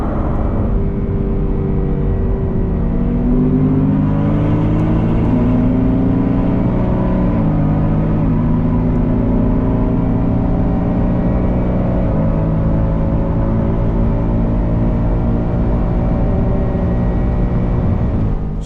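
BMW M4 rated at 630 hp racing a VW Golf R on the autobahn, engine loudly revving and pulling through rising gears with shift dips, a continuous close roar with wind, no talking.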